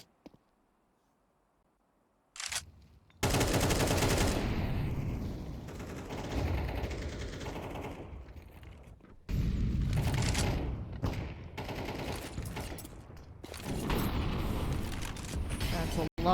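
Grenades go off in an esports shooter match, a series of loud thumping blasts and bursts of gunfire after near silence, with repeated explosive waves under a commentator's voice.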